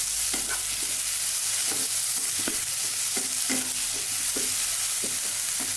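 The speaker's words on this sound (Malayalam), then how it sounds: "ഈ ടൊമാറ്റോ നല്ലപോലെ നമുക്കൊന്ന് വഴണ്ടി വെക്കാം മറ്റേ സവാളയിൽ നമുക്ക് നല്ലപോലെ ഒന്ന് വഴണ്ടി വെക്കാം" Tomatoes and onions sautéing in a pan for cauliflower kurma: a steady, loud sizzle throughout, broken by repeated scraping stirs of a utensil against the pan, close by, with no talking.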